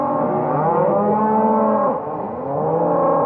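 Cattle moo loudly and continuously, several overlapping low calls from a herd being driven through deep timber, with a brief dip before the lowing swells again.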